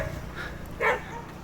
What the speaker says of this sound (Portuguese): Já tô sendo atacado pelos cães do agro.